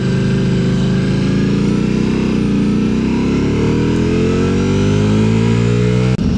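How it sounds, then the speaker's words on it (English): A group of Porsche sports cars on a road tour from France to Spain, engines rumbling and revving close by with rising pitch as they pull away, loud and continuous. "You got about 15 Porsches behind you."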